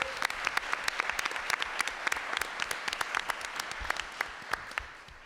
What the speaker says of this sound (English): If we could give a round of applause to Peter Hirschfeld for his job tonight.